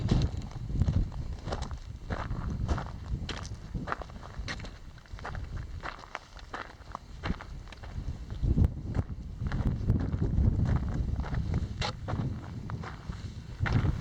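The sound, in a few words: wind blowing outdoors at a mine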